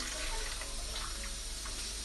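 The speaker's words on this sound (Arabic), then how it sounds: "الان غادي نضيف الماء حتى نغطي داك الحمص ديالي باش يطيبوا لينا" Warm water streams steadily into a pot over chickpeas and trotters, a soft, even pouring rush with no voices.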